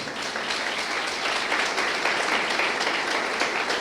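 A church congregation at an Easter service applauds the pastor's wife, a steady, sustained round of many hands clapping together at moderate volume.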